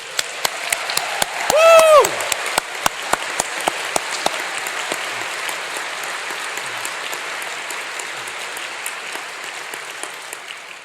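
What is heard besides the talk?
graduation audience applauding and cheering in Bridgewater Hall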